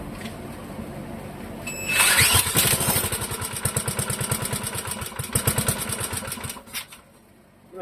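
A Clinton model 3100 small engine is pulled over and sputters into a rapid, rattling run for several seconds, loud and close, then cuts out and falls quiet.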